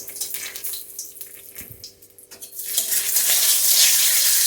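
Dried red chillies, whole bay leaves, cardamom and cinnamon frying in hot oil: a quieter stretch with faint stirring gives way to a loud, steady sizzling hiss that builds and holds to the end, with no talk.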